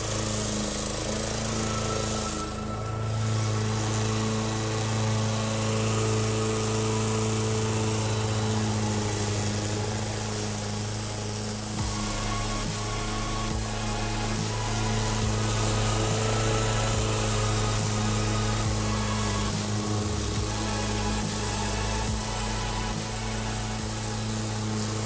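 A Toro Commercial 21-inch walk-behind lawn mower (22188TE) runs steadily nearby, its engine holding a constant drone with slight load changes as it cuts grass, and no voices are heard over it.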